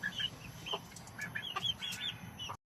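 Backyard chickens cluck in short, scattered calls at their coop, with brief rustles and wing flaps under a steady low background hum.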